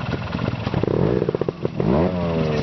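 Trial motorcycle at an Arnedo trials event, picking its way over obstacles: sharp throttle blips and short revving bursts mixed with clattering and scraping, close and loud, the engine pitch climbing toward the end.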